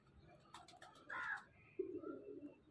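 Golden pigeons coo softly and close by, a few short low calls and flutters over a quiet background.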